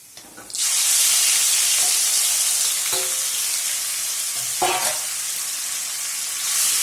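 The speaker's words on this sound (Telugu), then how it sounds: "మనం ముందుగానే మ్యారినేట్ చేసి పెట్టుకున్నాం కదండి చికెన్ను ఇప్పుడు ఇందులోకి వేసుకుందాము" Marinated ginger chicken hits hot oil with a sudden loud burst of sizzling that settles into a steady, close frying hiss, broken by a couple of brief stirring scrapes, with no voices.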